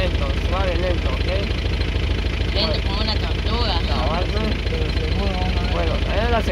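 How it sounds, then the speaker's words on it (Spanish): Car engine running steadily with a constant low hum as a learner driver slowly releases the clutch and eases onto the accelerator, with people talking over it throughout. "Va a ir usted sacando el clutch despacio y va a ir acelerando así despacito"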